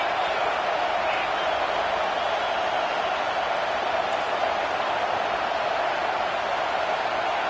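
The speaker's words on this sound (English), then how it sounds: "Big 3rd down as the crowd gets behind this defense." A stadium crowd at an LSU versus South Carolina football game roars for the defense on a third down, a dense, continuous, loud wash of cheering that holds steady throughout.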